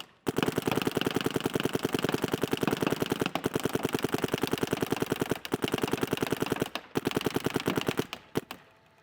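An SP Shocker ERA paintball gun firing in long, extremely rapid strings of shots, a dense continuous rattle broken by a few brief pauses, loud and close with no talking.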